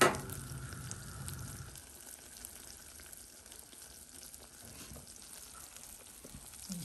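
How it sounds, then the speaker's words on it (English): A simmering mixture bubbles and hisses softly in a pot while it is stirred, a steady quiet sizzle with faint scraping and occasional clicks, close by and without talking. "And then you stir it, bringing it to a boil, and then you bring it down to a simmer."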